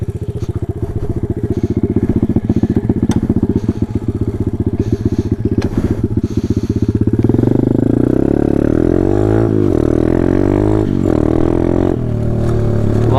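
A Taotao DB17 125 dirt bike ridden along a trail, its small engine buzzing loud and close with a rapid putter, then revving up and surging under acceleration while gravel and brush clatter beneath it.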